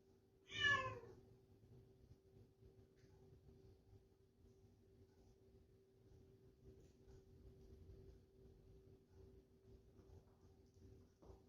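A house cat lets out one clear, close meow at a garage door near the start, followed by quiet room hum and faint shuffling for the rest.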